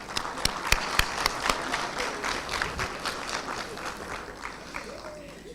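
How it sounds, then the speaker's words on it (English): An audience at a national summit on substance use and illicit trafficking gives a round of applause, with dense, steady clapping from many hands that tapers slightly toward the end. "If we can please give a big round of applause to Honorable MEC Bukiwe Fanta"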